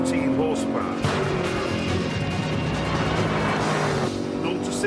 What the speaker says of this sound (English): It's got a 6-litre V8. That's 414 horsepower.